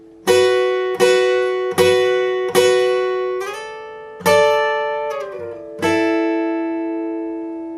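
An electric guitar riff, picked slowly as separate ringing notes, about seven even plucks with a slide between some, played alone and clearly.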